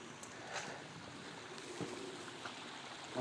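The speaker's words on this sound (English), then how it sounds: "I call it a waterfall, it's just a little stream." A small woodland stream flows with a faint, steady trickle and gentle splashing, heard alone with no voices.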